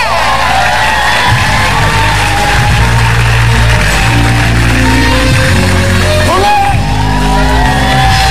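A studio audience claps, whoops and cheers loudly on a television show, a dense, steady roar close up with music playing underneath and a host's voice cutting through.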